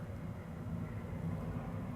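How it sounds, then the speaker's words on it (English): Airplane passing overhead during a wildfire in Ventura, a steady low broadband rumble that holds at moderate level throughout, with no talk. "That's a plane going overhead"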